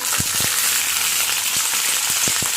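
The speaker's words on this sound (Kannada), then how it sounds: "ಎಗರುತ್ತೆ. ಟೊಮೆಟೊ ಹಣ್ಣು ಈ ಥರ ಎಣ್ಣೆ ಚೆನ್ನಾಗಿ ಫ್ರೈ ಮಾಡ್ಕೋಬೇಕು." Tomatoes with curry leaves fry in hot oil for a bachelor-style tomato gojju, giving a steady loud sizzle broken by several sharp pops and spatters.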